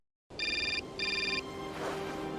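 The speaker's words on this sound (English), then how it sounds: "phone call" Telephone in the video game Syberia ringing, two bright electronic trilling rings in quick succession, loud and close, followed by a lingering tonal hum, no talk.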